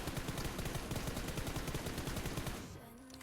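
Rapid automatic rifle fire from PUBG Mobile, a steady stream of close, loud shots in quick rhythm for about two and a half seconds before stopping abruptly.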